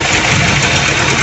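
A Mitsubishi Lancer engine idles with a holed exhaust and a faulty carburetor, giving a steady, loud, close rumble with a rough broadband hiss that never lets up through the short stretch.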